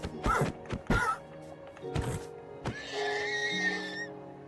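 A horse whinnies in a survival video game, with a couple of short bursts early on followed by a longer, tonal neigh that rises and holds near the end, close and fairly loud with no talk.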